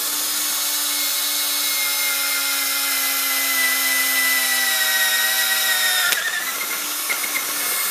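A steady, high-pitched drill whir runs close and loud, then shifts abruptly as the bit catches and grinds through a cork lacrosse stick end cap.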